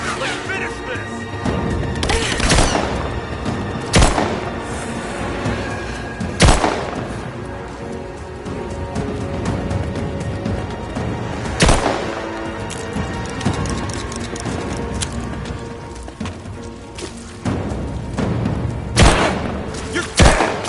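Gunfire in the Rise of the Tomb Raider video game, with sharp shots, booms and bursts recurring irregularly over a dense, loud battle soundscape as game characters shout between them.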